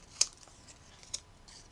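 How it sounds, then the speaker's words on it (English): Two quick, crisp snips of large scissors cutting paper a moment apart, faint and close, against near silence. "I'm using my ginormous scissors"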